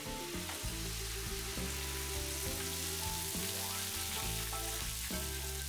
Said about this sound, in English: I'm gonna put some beer here in the pan.